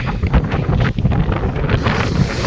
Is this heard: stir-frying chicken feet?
no